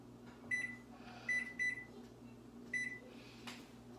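A kitchen timer is set while snickerdoodle cookies bake, giving several short, faint electronic beeps in an uneven rhythm over a steady low appliance hum.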